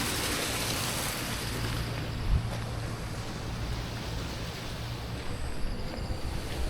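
A waterfall's rushing water gives a steady, loud, broadband roar with wind buffeting the microphone and no voices.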